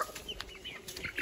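Farmyard chickens cluck softly in short scattered calls around feeding time, with light rustling beneath and no talking.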